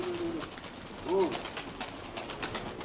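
A female pigeon gives a couple of soft, low coos close by, with a faint murmur of voices and background noise around it.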